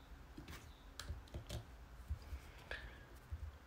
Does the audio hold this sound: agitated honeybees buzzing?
no